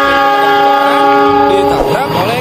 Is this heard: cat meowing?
no